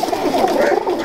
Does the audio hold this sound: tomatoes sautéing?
no